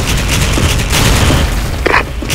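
A grenade blast in a video game, a dense, loud booming rumble running throughout with a sharp pop near the end, amid continuous gunfire-like clatter.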